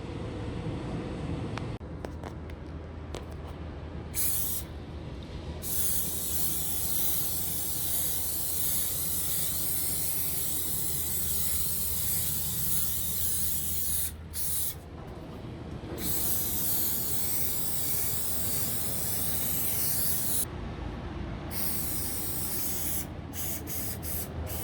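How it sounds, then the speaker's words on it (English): Cooking oil spray hisses onto a surface inside a camper van in long, loud continuous bursts with short pauses between coats. "It's just cooking oil, cooking spray, and look, it's even non-stick. So, just going to spray it on"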